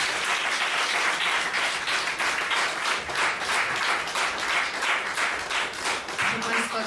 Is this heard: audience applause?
yes